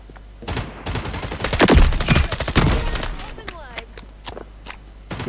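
Bursts of gunfire ring out in the FPS video game FragPunk, with sharp volleys of rapid shots that swell loudest mid-way and then thin to scattered single cracks, while someone talks over them.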